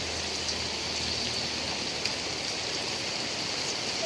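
Steady, dense rain hissing on surfaces, with a constant wash of noise and occasional faint drips, no voices.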